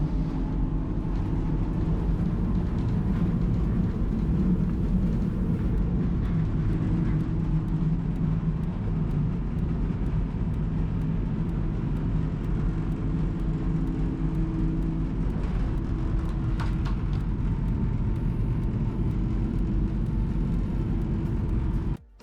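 A steady low rumble and whir fills a moving Norwegian long-distance train carriage, continuous and even throughout, with no voices.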